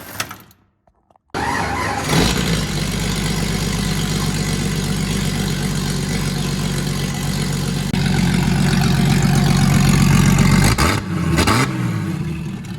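A Jeep Grand Cherokee ZJ with an open exhaust, left out under winter snow, cranks and fires up on its electric start, then settles into a loud, steady idle that rises slightly before a brief dip near the end.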